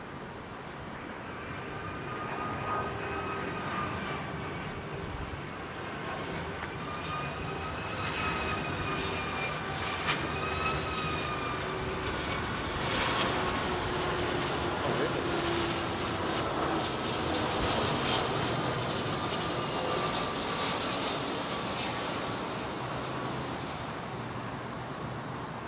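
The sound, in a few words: Boeing 757 with RB211 turbofan engines approaching Heathrow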